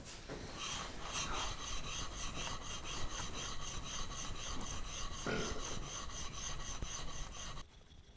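A brand new steel chisel drawn across a sharpening stone in alternating strokes, a close, steady gritty rasping that continues without a break for several seconds before stopping abruptly near the end.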